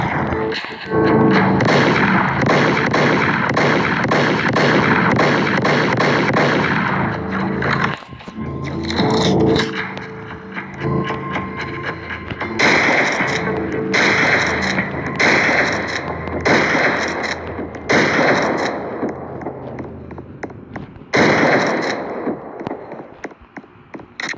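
Gunfire in a shooting video game comes as dense, loud bursts of shots, with heavy stretches of continuous firing broken by short pauses, clearly upfront in the mix.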